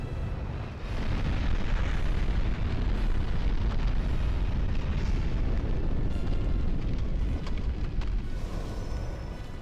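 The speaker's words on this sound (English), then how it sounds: "And now is the big AoE explosion." A big area-of-effect explosion in the video game Demon's Souls, fought against the Armor Spider, roars as a loud, sustained, dense rumble that fills nearly ten seconds and eases slightly near the end.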